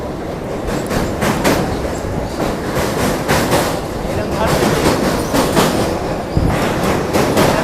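A crowded local passenger train between Kharagpur and Howrah rumbles steadily along the rails, with rhythmic wheel clatter and a constant roaring wash of noise that stays loud and near for the whole stretch.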